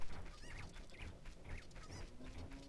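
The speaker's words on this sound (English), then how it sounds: "I'm hearing a lot of chickens" Chickens in the Ocarina of Time video game, with several faint, quick clucks and squawks repeating at short intervals over a dense background hum.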